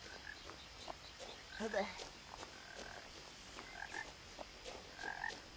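Frogs croak in short, scattered bursts at night in the game What Remains of Edith Finch, faint and somewhat distant over a soft ambient bed, with a brief spoken exclamation mixed in.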